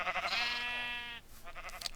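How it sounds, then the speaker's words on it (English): Minecraft sheep bleat in a farm pen: one long, wavering, nasal bleat held for about a second, then a shorter, fainter bleat, close and alone with no talk. "So we have some sheep here"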